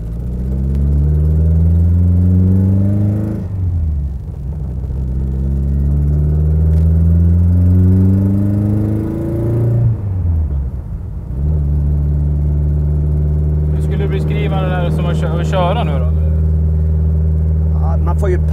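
A Lotus fitted with a tuned Renault engine fires up and drives off, its loud close engine rumbling and revving in strong harmonic surges with brief dips between gears, while people talk over it.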